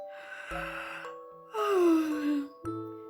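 A voice imitates a long, drawn-out yawn with a wavering, sighing moan that rises and falls, followed by a short breathy vocal.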